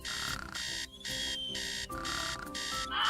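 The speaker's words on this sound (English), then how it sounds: "It all started when he slept through his alarm." An alarm clock rings in repeated bursts of loud, shrill beeping separated by short gaps, alone with no talk.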